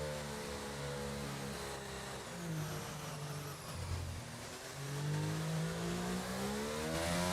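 Racing car engine from a video game on a final qualifying lap at a Spanish circuit, revving steadily and rising and falling in pitch through gear changes, loud and continuous with no voices.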